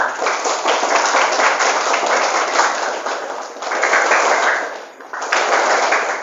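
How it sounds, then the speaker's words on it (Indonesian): An audience at a motivational session in an Indonesian pesantren in Banjar breaks into loud, continuous clapping that briefly dips near the end, then surges again. "Tepuk tangan sekali untuk beliau."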